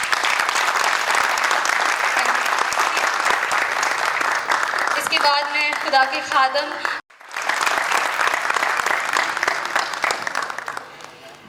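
Loud, steady applause from a crowd at a 25th wedding anniversary celebration fills most of the span, broken by a brief musical passage and a momentary drop before the clapping resumes, with a voice speaking over it.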